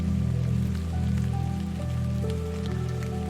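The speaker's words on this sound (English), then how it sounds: "As the rain grows steadier, allow it to flow over you." Steady rain falls in a meditation setting, with soft continuous patter over a low background drone and faint tonal hums, with no voices.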